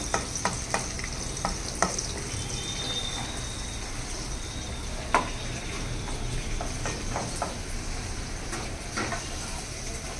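Thin-sliced onion and three small green chillies fry in a pan with a constant soft sizzle, while a utensil scrapes and taps against the pan at irregular moments.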